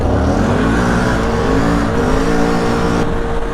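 Can-Am ATVs, a G2 Renegade and a G3 Outlander, launching side by side in a drag race, loud close engine roar that holds steady at high revs throughout, with no voices.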